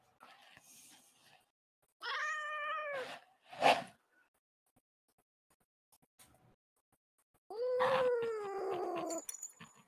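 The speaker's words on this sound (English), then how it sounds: "I hear a cat in the background." A grumpy domestic cat meows twice, close and clear: a drawn-out, wavering cry followed by a short sharp one, then another long complaining yowl after a pause, with no talk.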